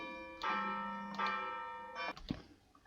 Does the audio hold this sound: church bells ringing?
yes